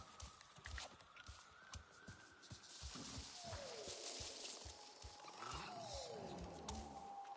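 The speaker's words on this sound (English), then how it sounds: "I hear animals nearby." Loud roaring of wild creatures in the video game Avatar Frontiers of Pandora, with repeated growls over steady hoof-like clip-clop steps and rumbling movement.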